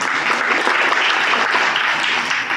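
An audience at an art museum panel discussion applauds steadily, a dense, even wash of many hands clapping for the full stretch with a little talk mixed in.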